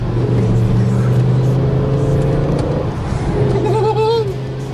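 A BMW M5's engine runs with a loud, steady, deep drone that shifts pitch briefly near the end as it revs, with some background voices mixed in.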